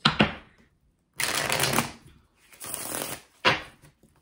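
A deck of oracle cards is shuffled in several quick, loud riffling bursts close by, separated by short silent gaps.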